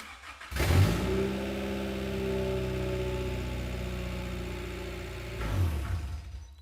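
An import car engine with an H22 swap cranks and catches, then runs at a steady rumbling idle for several seconds before a brief rise in revs near the end, close by with no speech.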